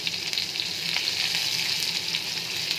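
Chopped onions frying in oil with cumin seeds for a fish curry, a steady bright sizzle with faint scrapes of stirring, close and continuous with no talking.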